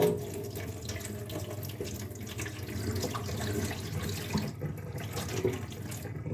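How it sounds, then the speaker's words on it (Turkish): Water from a fish container is poured out into a sink in a steady, continuous splashing gush, close and uninterrupted, with no voices. "Bunun suyunu ilk öncelikle lavaboya e, boşaltacağız."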